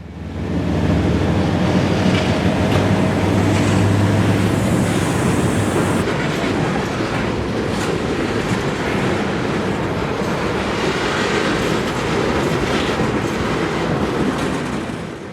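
A CSX freight train, a switcher pulling empty Tropicana refrigerated cars and mixed manifest cars near Tampa, Florida, rumbles past in fog with steady rail noise and clickety-clack, loud and continuous throughout.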